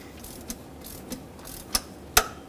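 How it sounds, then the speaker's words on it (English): A ratchet snugs the idler pulley bolt on a 2007-2014 Chevrolet Silverado 2500 HD, giving a few sparse, sharp metallic clicks, the last one loudest, over a quiet workshop background. "Then I'll grab a ratchet, snug it, and then of course we're going to torque it down to make sure it stays on there tight."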